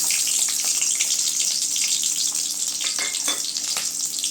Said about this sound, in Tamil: எண்ணெய் சூடானது வெங்காயம் சேர்த்துக்கலாங்க பெரிய வெங்காயம்